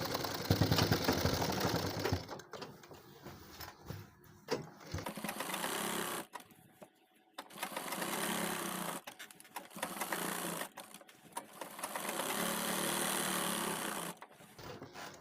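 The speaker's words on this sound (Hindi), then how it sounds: "यहाँ से करेंगे इसको फोल्ड और यहाँ पर सिलाई लगाते चले आएंगे और इसको अटैच कर देंगे" A sewing machine stitching the folded handle of a handmade travel bag, close and fairly loud, running in several stop-start bursts of rapid mechanical whirring separated by short pauses.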